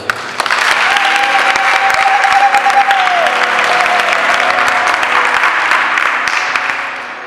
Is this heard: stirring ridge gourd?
no